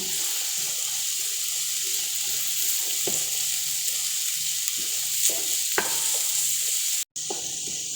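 Carrots and raisins are stirred in a pan while cooking for bukhari rice, with scraping strokes and a few sharp clicks over a steady background hiss.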